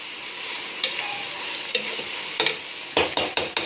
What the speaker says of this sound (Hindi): इसको तकरीबन से तकरीबन आपने 5 से 10 मिनट के लिए फ्राई करना है